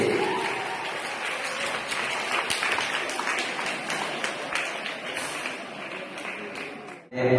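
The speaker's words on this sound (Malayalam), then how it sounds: "സ്നേഹാരാമിന്റെ ഹൃദയം നിറഞ്ഞ നല്ലൊരു കയ്യടി" Sustained audience applause at an Onam celebration held at a special school in Manalur. The clapping is dense and steady for about seven seconds, then stops abruptly.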